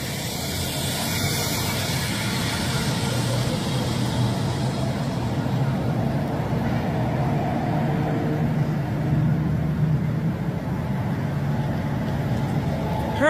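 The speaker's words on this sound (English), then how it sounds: "Just cars going off." Traffic passes on a road outside an open car window, a continuous washing hiss and rumble of cars going by, steady and moderately loud with no talking.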